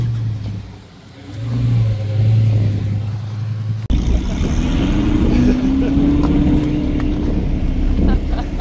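Supercar engine revving at a large outdoor car meeting, a loud close roar that rises in pitch and holds, with crowd noise and a muffled voice under it.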